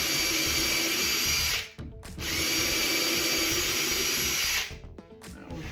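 A power drill bores pilot holes for screws into wood while a bench is built, a steady high whine running, briefly stopping, then resuming before trailing off, with no talking.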